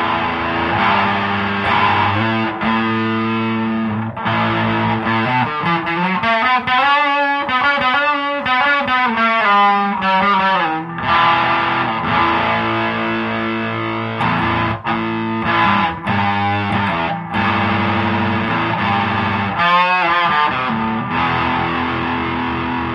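An electric guitar played through an MXR Distortion+ pedal with the distortion turned up, giving a loud, continuous, heavily saturated tone with sustained chords and runs and no talking.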